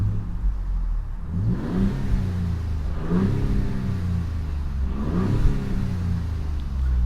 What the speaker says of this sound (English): we're gonna give you guys some simple revs